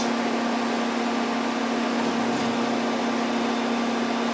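A Sunnen SV-3 vertical two-stage honing machine runs with a loud, steady mechanical drone and a strong constant hum, unchanging and close throughout.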